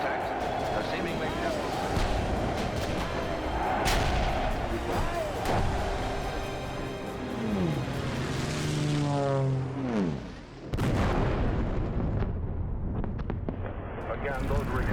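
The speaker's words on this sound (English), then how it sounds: "Again, those were explosions overhead." Deep rumbling booms from German bombs exploding overhead during a World War II air raid, with a descending whistle and a sudden sharp blast, over a noisy old broadcast recording.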